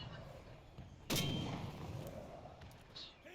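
A single mortar round fires in the video game Enlisted, a sudden heavy boom that rolls off over a second or two amid low battlefield rumble, with no other shots close by.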